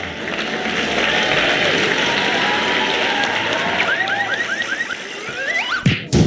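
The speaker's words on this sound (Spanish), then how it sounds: "reciban con un fuerte aplauso a Silveria" A crowd applauding to welcome a performer in a school class, sustained clapping with some cheering and whistles that gradually thins out toward the end.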